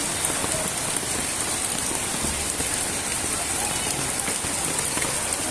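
Heavy rain pours steadily onto a flooded barangay street, a dense, even hiss of drops striking water and surfaces with no break and no voices.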